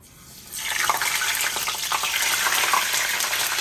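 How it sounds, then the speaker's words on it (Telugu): Brinjal slices for bajji frying in hot oil, a steady broadband sizzle that starts after a brief quiet moment and holds loud and even to the end, with no talking. "దీన్ని ఇప్పుడు కొంచెం మనం వేయించుకుందాం"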